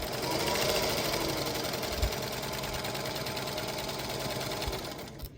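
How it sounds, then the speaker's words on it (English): A sewing machine runs continuously and close up while stitching quilt block pieces for a star block, giving a fast, even mechanical hum with a needle rattle, alone throughout. "you're just going to sew right on the line"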